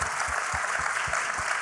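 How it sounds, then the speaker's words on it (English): An audience at a panel on Chicago's future breaks into steady applause, a dense crackle of many hands clapping at moderate volume, with a few soft low thumps pulsing beneath it. "y'all better give a round of applause for that"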